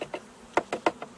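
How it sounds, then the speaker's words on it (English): Honeybees buzzing around a queen while a package of bees is hived, heard as several short, close buzzing bursts at an uneven rhythm. "I'm going to shake those bees off into the hive"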